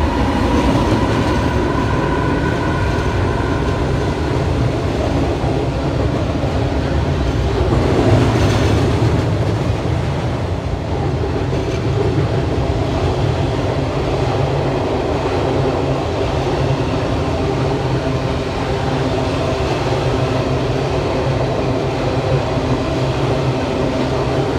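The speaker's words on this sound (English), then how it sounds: "give you a better view of the railroad bridge, and there is another train coming." A freight train rumbles steadily across a railroad bridge over the Oostanaula River, a continuous heavy rolling roar with faint rhythmic clatter, loud and close for the whole stretch.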